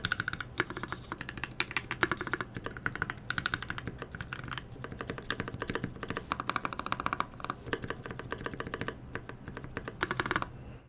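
Fast, steady typing on an E65 mechanical keyboard fitted with Tealios switches, a dense close-up stream of clacking keystrokes running continuously with no talking over it.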